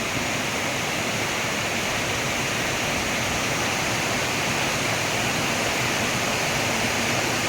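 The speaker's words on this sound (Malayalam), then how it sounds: "അതുപോലെ നല്ല വെള്ളച്ചാട്ടമാണ്." Meenmuttippara waterfall at Mallappally, Pathanamthitta roars as a loud, continuous wash of falling water, dense and unbroken from start to finish.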